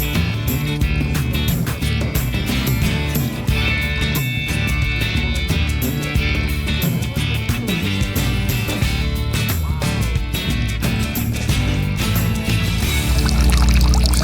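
A steady stream of poured water falls continuously without a break, moderately loud and close, with no voices.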